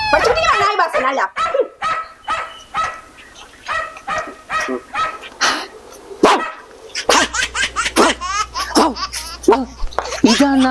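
A voice imitates a dog barking with a string of sharp, uneven yaps and woofs, close and loud, mixed with bits of speech and a low hum in the background.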